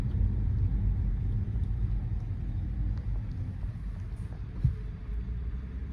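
Smart #3 Brabus electric car driving at night in sport mode, heard as a steady low road rumble and muffled cabin hum throughout, with faint wind noise and a brief thump near the end.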